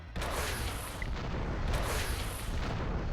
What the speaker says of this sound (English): Is he shooting again?